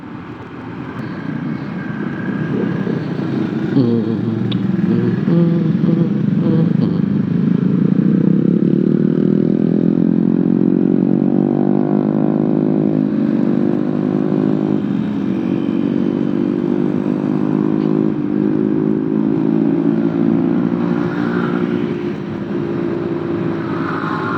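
A Honda ADV150 scooter engine drones steadily and loudly up close while riding, its pitch climbing and easing as it speeds up and settles, with no talking.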